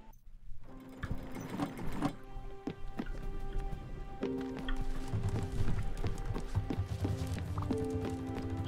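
Small hooved steps of a sheep boarding a boat in the video game Spiritfarer, a light clip-clop patter of several taps over soft game music and ambience.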